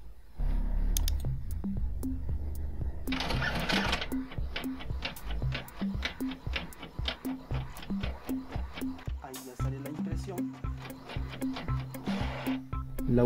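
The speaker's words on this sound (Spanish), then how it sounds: "Y ahora le damos imprimir." A desktop printer runs off a tri-fold brochure page, its mechanism ticking and clicking in a fast, steady rhythm with bursts of whirring feed motor noise.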